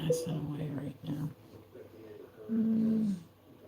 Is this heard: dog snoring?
yes